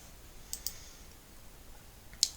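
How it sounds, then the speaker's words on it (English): A computer mouse clicks on an on-screen button, giving a quick double click followed by a single sharp click, crisp and close against a quiet room. "I'm going to click on this button right here."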